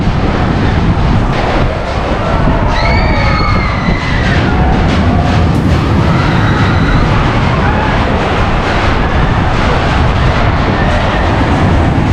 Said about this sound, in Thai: รถไฟนะ